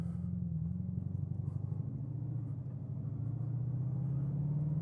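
Bugatti supercar with top speed mode enabled pulls away and accelerates, a steady loud engine drone rising gradually in pitch, continuous and close, heard from inside the car.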